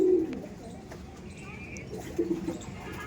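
High-quality Punjab-breed pigeons at a dealer's loft in Dankuni coo in low, soft bursts near the start and again later, mostly beneath ongoing conversation.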